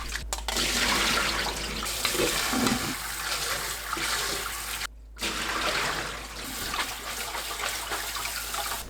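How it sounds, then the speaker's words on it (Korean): Sliced sweet potatoes are rinsed under running water, a steady loud gush from the tap with a brief pause midway, then the splashing flow resumes. "10분 후 물에 헹굽니다."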